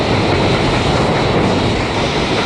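A train on New Zealand's North Island Main Trunk railway climbs 1-in-50 mountain grades toward the Mangaweka Viaduct, giving a steady, loud, close rumble of wheels and engine with no break.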